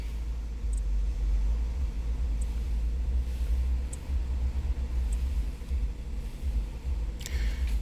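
Engine of a 2009 Nissan Cube with a no-acceleration fault, idling steadily up close as a continuous low rumble with no voices.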